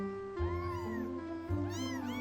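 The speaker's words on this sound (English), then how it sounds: "They began to wake up and cry" Cat or kitten meows rise and fall in clear harmonic cries, two drawn-out calls back to back, close and fairly loud with no voices.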